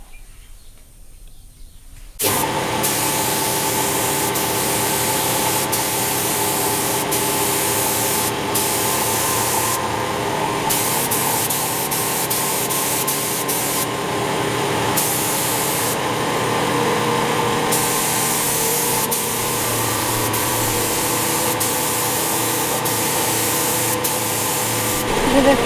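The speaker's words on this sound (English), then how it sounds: "There's a third layer of paint going on now." Spray gun applying successive paint coats to a Nissan R32 Skyline drift car in a DIY home job, a steady close hiss running continuously after a brief quiet start, with faint background noise beneath.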